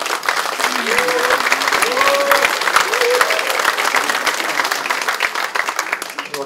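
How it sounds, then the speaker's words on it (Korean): Sustained applause from Democratic Party lawmakers at a floor leader election meeting, dense steady clapping filling the room for several seconds with some crowd noise and voices beneath it. "큰 박수 한번 다시 부탁드립니다"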